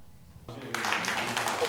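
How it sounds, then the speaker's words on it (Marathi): An audience breaks into applause welcoming the first-prize winner at the prize ceremony for a Goa eco-friendly home Ganesh decoration competition. The clapping starts suddenly after a quiet moment, swells quickly and stays steady and fairly close. "टाळ्या वाजवून स्वागत करा त्यांचं"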